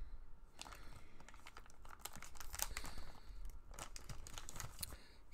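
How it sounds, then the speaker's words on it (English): Thin plastic bag around a Kizer Yorkie knife crinkles and rustles in quick, close bursts, a steady run of small crackles and rubs handled by hand without speech. "And then just comes in the little plastic bag here."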